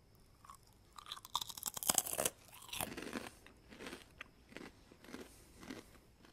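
Crunchy cheese-flavoured snack chips crushed between teeth, a burst of loud, close crackling bites followed by steady rhythmic chewing crunches with no talking.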